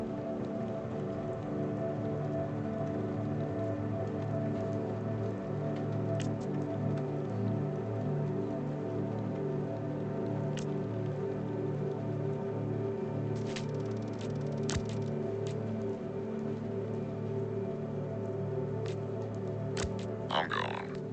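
Steady rain falls in the video game Dispatch as an even, close hiss that runs unbroken through the whole stretch, layered over a low droning tonal bed with a few sharp ticks.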